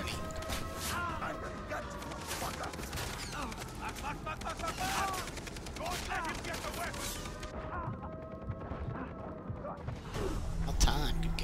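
Gunfire in the video game Far Cry 3, dense bursts of shots and mechanical clatter mixed with game sounds, loud and continuous with muffled voice-like noises under it.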